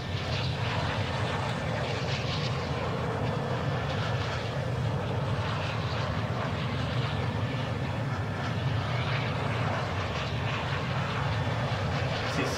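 A video game airplane engine drones steadily and continuously at a moderate level, a dense, unbroken propeller-like roar with faint voices barely present.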